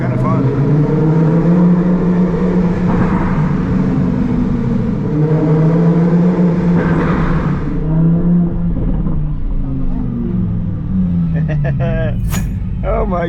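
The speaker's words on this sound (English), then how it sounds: "right now, as you can see, I'm driving up a parking garage" A supercar climbs a parking garage with a loud, steady engine drone whose pitch rises and falls through the turns, heard close from inside, with voices talking over it.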